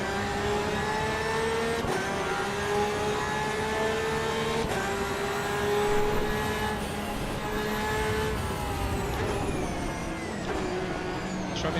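A Porsche race car at Brands Hatch in a racing video game holds a loud, steady engine whine, with several sharp gear changes breaking the tone before it rises again.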